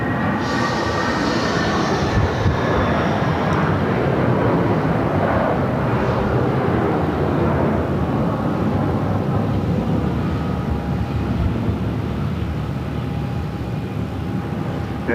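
An airliner departs Phoenix Sky Harbor from runway 7 right, with a steady, loud jet roar throughout and broadband rumble rising and holding as it rolls and climbs, no voices over it.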